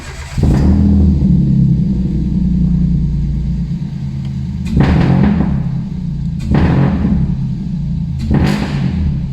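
A Toyota Aygo with a Piper exhaust manifold fires up, settling into a loud, close, deep idle, with three sharp revs blipping over the rumble toward the end.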